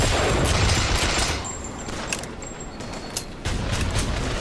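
Dense, continuous enemy gunfire rattles in BioShock Infinite, a sustained barrage of rapid shots that stays loud throughout, with a few sharper cracks standing out and no voices over it.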